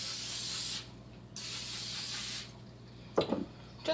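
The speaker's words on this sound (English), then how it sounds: "I'm also going to spray the parchment paper" Cooking spray is aimed at parchment paper while pumpkin cheesecake cookies are being made, giving two sustained hissing bursts close by. A brief clatter of handling noise follows, and a low hum sits underneath.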